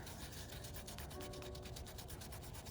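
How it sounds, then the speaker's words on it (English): Fingers rub wet paper off a wooden coaster in an image transfer, a faint, steady scratchy rasp of repeated short strokes, close up and with no talking. "With your fingers, you'll start rubbing gently and continue to do so."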